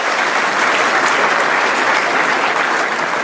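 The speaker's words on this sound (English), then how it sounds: "a warm round of applause for their achievements" Sustained, dense applause from an award ceremony audience at the 2018 Young New Zealander of the Year event, loud and steady throughout with no talking.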